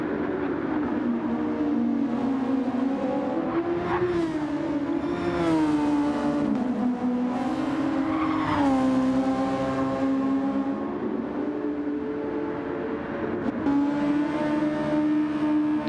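Open-wheel Super Formula race cars roar around a Gran Turismo 7 circuit, engines droning at high revs with rising and falling pitch as cars shift and close in on one another, continuous and fairly loud throughout.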